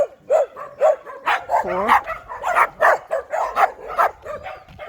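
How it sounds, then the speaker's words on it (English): Seven small dogs in a residential neighborhood bark and yip in a rapid, overlapping volley, some sharp and high, with a brief whimper among them, loud and near. "7 dogs, 7 little dogs."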